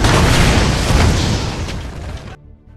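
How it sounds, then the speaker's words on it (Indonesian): A remote-controlled bomb explodes in a film scene, a loud broadband blast that rumbles on for about two seconds before cutting off into a faint tonal hum. "Setelah ledakan itu"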